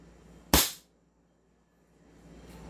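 A single sharp crack from an upgraded AWC 1911 airsoft pistol fired during a chronograph test, loud and close, followed by near silence.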